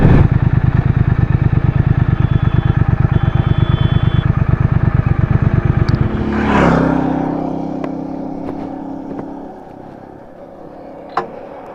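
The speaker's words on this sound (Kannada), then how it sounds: "ನಾನು ಇವತ್ತು ಸೂಪರ್ ಬೈಕ್ನ ರೈಡ್ ಮಾಡಿದ್ದೀನಿ" A Triumph Speed Twin 1200cc motorcycle engine runs at a close, loud, steady idle thrum, then revs briefly and fades to a lower rumble as it settles.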